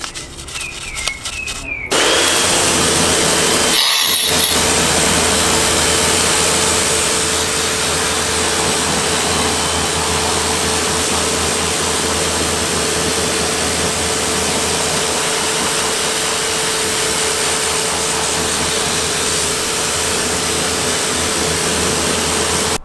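Water rinsing down a car wheel on a black Ford Focus ST: after a brief rustle, a loud, continuous hissing spray starts and holds steady for the rest of the clip.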